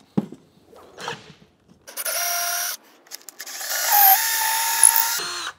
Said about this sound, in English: I got a big boy drill bit